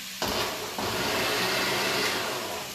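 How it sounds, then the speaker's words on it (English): A blender making salsa starts up and whirs loudly and continuously, a dense, steady motor roar close by with no voices. "So you're going to hear the blender."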